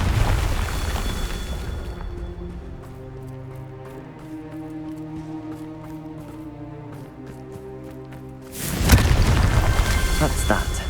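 A Confringo spell explodes during Hogwarts Legacy combat, a loud deep boom bursting out near the end after a quieter stretch of tonal game music, with a rumbling blast also at the start.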